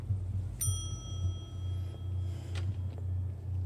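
Service bell at a front desk in The Wolf Among Us, one sharp metallic ding with a ringing tail, followed by a fainter second tap, over a steady low hum.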